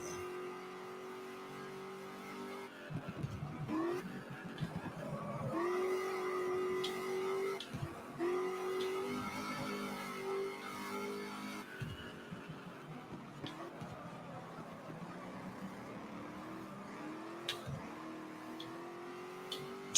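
A race car engine in the racing video game GT Legends revs and drops through the gears with brief tire squeal during skids, a buzzing, shifting engine note heard at moderate level with occasional sharp breaks.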